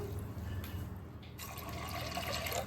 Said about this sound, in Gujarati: ત્યારબાદ આપણે એમાં વટાણા બાફવા માટે પાણી એડ કરીશું.